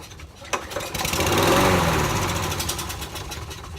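A small lawnmower engine catches on starting fluid, sputtering into a rough, loud run after a sharp pull, then gradually weakening as it begins to die; no voices.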